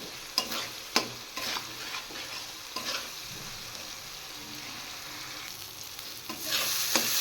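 Spice paste of turmeric, salt, dry red chilli powder and chopped tomato frying in a pan, with soft sizzling under repeated scraping stir strokes and a brighter hiss swelling near the end.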